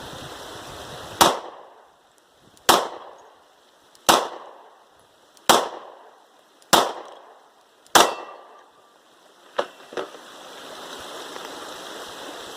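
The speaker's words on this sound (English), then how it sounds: "So the Terran Tactical fired all 8 shots." Eight sharp gunshots from a Glock 43 fitted with a Terran Tactical magazine extension ring out outdoors at an even pace, each followed by a short echo; the last two come quicker and quieter.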